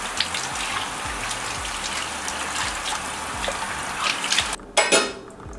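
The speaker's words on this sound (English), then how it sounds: "you can like grab a couple at a time and just rinse them all off like this" Leafy greens being rinsed under a running kitchen tap, a steady close hiss and splash of water that continues throughout, ending in a few louder splashes and clatters.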